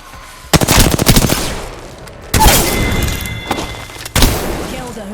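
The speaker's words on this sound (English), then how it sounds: "Being shot at." Automatic weapon fire in the shooter game Apex Legends: loud rapid bursts in three separate volleys, each opening with a heavy thump and trailing off, with a voice faintly underneath.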